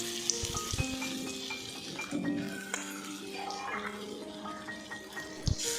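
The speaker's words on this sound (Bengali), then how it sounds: "কুমড়ো বীজের পেস্টটা এইভাবে বড়ার শেপে দিয়ে ভেজে নেব।" Pumpkin seed paste fritters frying in hot oil, a steady close sizzle and crackle with occasional spoon scrapes and clinks against the pan, no talking.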